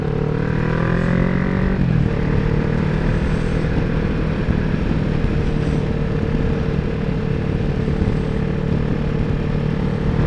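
A 650cc motorcycle climbing a dual carriageway hill, its engine a loud, continuous close drone that shifts pitch briefly near the start, then holds steady over rushing wind.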